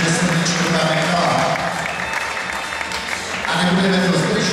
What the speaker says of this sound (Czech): Takže to tleskáme.